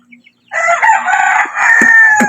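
A rooster beside a house lets out one loud, close crow, a sustained strained call that sets off after a brief pause of faint clucks and holds for nearly two seconds.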